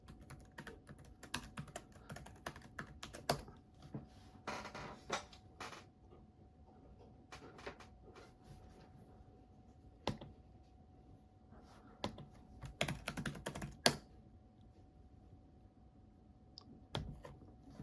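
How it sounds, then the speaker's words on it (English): Keys clicking on an old MacBook keyboard as a password is typed, an irregular run of close, light taps and clacks with pauses over a steady faint background hum. "Oh, we gotta enter my password."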